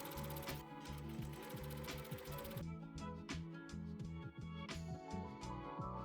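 A sewing machine stitches a shirt seam, a fast steady mechanical chatter of needle strokes running continuously and close, with a slight shift in tone partway through.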